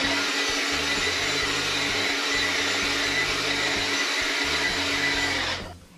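Hair dryer blowing steadily on a beard and mustache, a loud continuous whoosh with a faint motor hum that cuts off at the very end.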